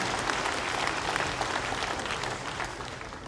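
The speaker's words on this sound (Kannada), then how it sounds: "ದಯವಿಟ್ಟು ಅವರಿಗೆ ಕೈ ಚಪ್ಪಾಳೆ ಮೂಲಕ ಒಂದು ಅಭಿನಂದಿಸೋಣ" An audience at a convention centre inauguration bursts into steady, dense applause, many hands clapping together at close range with no talking over it.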